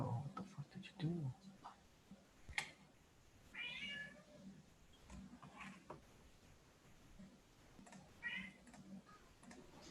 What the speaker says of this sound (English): this cat's being annoying